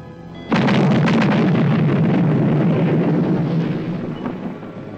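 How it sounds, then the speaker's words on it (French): A loud, sustained boom from a present exploding as it is opened in a 1984 Christmas horror film, erupting suddenly after half a second of quiet and then rumbling on for several seconds with a slowly fading roar. "Et là, il va ouvrir un cadeau, et là, ça explose."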